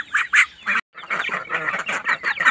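Young ducks peep and quack in quick, busy bursts close by, a brief pause breaking the steady chorus.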